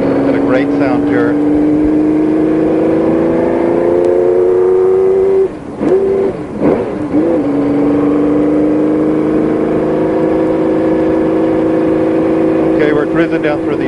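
A vintage 1960s-70s road racing car engine drones loudly on track, pitch climbing steadily through the gears with a brief lift-off midway, a voice talking over it.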